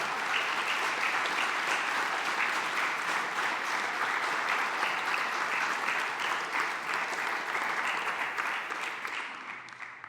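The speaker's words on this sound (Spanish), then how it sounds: "Dale un aplauso al Rey" Sustained applause from a large church congregation, steady and dense for about ten seconds, fading slightly at the end.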